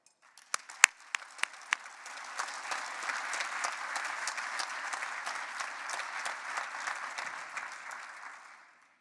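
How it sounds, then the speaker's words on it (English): A few isolated claps open, then a full round of audience applause swells at a London economic conference for a speaker taking the stage, holding steady for several seconds before tapering off at the end. "let's give Minister Mario Marcel a warm applause"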